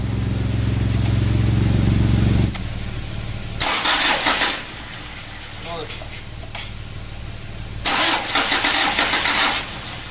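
A diesel engine cranks and starts up, with a loud steady cranking burst at first, followed by bursts of revving and idling; people talk over the engine in between.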